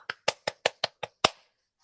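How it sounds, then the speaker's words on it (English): A handful of separate claps mark applause for the general evaluator and evaluation team at a Toastmasters club meeting: seven sharp, evenly spaced hits, fairly close and then silence, more like one person clapping than a full room. "Let us give a huge round of applause for general evaluator and evaluation team"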